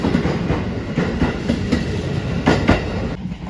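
A JR Shikoku 7200 series local train runs at Tadotsu Station on the Yosan Line, its wheels clattering in a loud, close rhythmic clickety-clack over the rail joints, with no voices.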